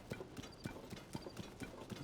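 A horse's hooves clip-clop at a steady walking rhythm in The Legend of Zelda: Tears of the Kingdom, with regular sharp knocks close by over a soft background bed.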